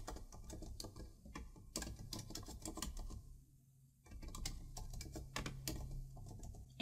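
Rapid keystrokes on a computer keyboard tap out a short name in quick bursts, pausing for about a second before the clicking resumes, close and fairly quiet.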